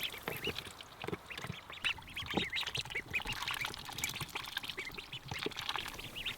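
Ducks at a backyard coop quack in a busy, overlapping chorus, close by and fairly loud, with calls tumbling over one another continuously amid splashy, messy background noise.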